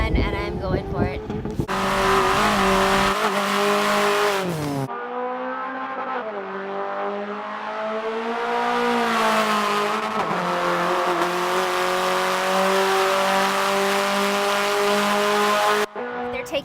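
A Hyundai Veloster N driven hard around an autocross course at the Hyundai Proving Grounds, its engine revving up and down in loud, changing pulls with brief drops between bursts, close and dominant throughout.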